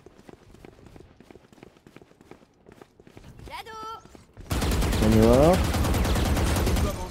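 Gunfire in the tactical shooter Valorant, a loud sustained burst of shots in the second half, preceded by lighter footsteps and game effects, with players talking over it.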